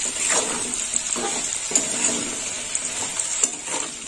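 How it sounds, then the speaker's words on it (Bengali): Potato pieces fry in oil, a close crackling sizzle broken by soft stirring scrapes and a few sharper clicks, fairly even in loudness across the few seconds. "আলু আর একটু ভাজা হবে"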